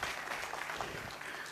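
An audience breaks into steady applause, a dense wash of clapping hands that holds at an even level for a second or two, heard from within the room.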